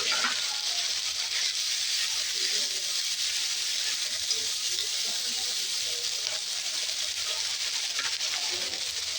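Ginger, green chili and garlic paste frying in a pan with browned onions, giving a continuous close sizzling hiss that stays even throughout, without talk.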